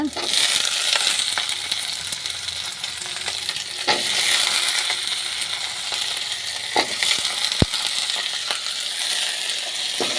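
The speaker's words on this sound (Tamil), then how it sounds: "கொஞ்ச நேரம் அப்படியே எண்ணெயிலே கிளறி விட்டுக்கோங்க" Plantain pieces sizzle steadily in hot oil, with a spatula scraping and clinking against the pan at intervals; no talking.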